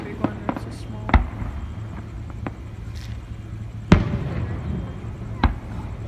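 Fireworks bursting at a 4th of July show in Palm Springs, a few sharp distant booms and pops spaced seconds apart over a murmuring crowd, with a voice talking nearby.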